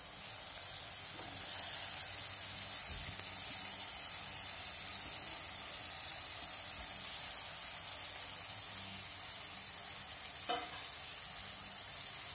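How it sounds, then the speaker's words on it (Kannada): Fried okra tipped into masala in a hot pan, sizzling in a steady, dense, continuous hiss with a couple of brief scraping knocks, close and alone without talk. "ಈಗ ಫ್ರೈ ಮಾಡಿಟ್ಟ ಬೆಂಡೆಕಾಯಿಯನ್ನು ಹಾಕ್ತೇನೆ"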